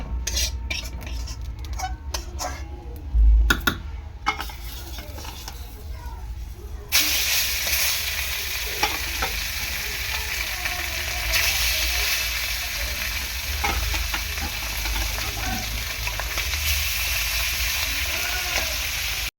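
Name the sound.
small fish frying in oil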